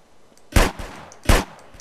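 Two loud, close Desert Eagle pistol shots from GTA San Andreas Multiplayer, spaced about three-quarters of a second apart, each a sharp broadband crack with a short tail, over a quiet background.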